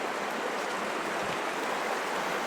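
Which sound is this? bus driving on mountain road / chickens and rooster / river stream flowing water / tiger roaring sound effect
river stream flowing water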